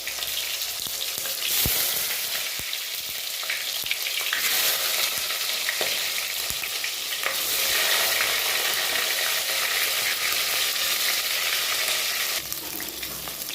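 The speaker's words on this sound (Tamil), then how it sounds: "இப்போ தக்காளி வந்து ரெண்டு ரெண்டாக கட் பண்ணி வச்சுருக்கேன் அதை வந்து எண்ணெயில் போட்டுணும்" Halved tomatoes fry in hot oil, producing a steady, loud, broadband sizzle that swells and eases in long waves, with a few faint clicks of a utensil; no voices.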